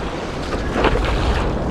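Small ocean surf washes and hisses around a paddleboarder in a steady, close rush of water with heavy wind buffeting the microphone throughout.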